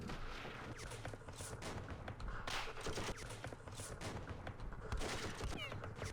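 Rapid bursts of gunfire from the Vietnam war game Campaign Series Vietnam, a dense fusillade of overlapping shots that stays loud and busy throughout with no talk.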